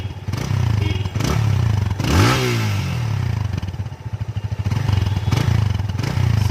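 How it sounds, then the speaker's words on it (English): A Yamaha FZ25 250cc motorcycle idles close by, then its engine is revved in a sharp rising blip around the second mark before settling back to a steady, throbbing idle, with further light throttle pulses and some background noise. "Now let us rev it a little bit."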